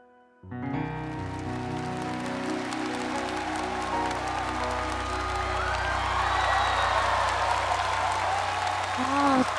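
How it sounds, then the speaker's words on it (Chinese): A studio audience at the Masked Singer China TV singing competition applauds a singer, with dense, steady clapping and some cheering that rises from near silence and holds loud and full throughout. "掌声送给他，超级棒！"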